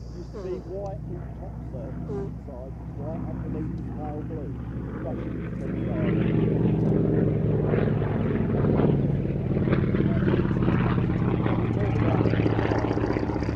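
A vintage tandem-seat trainer aircraft flies an airshow display at Shuttleworth, its propeller engine droning steadily and growing louder about halfway through, with a voice talking over it throughout.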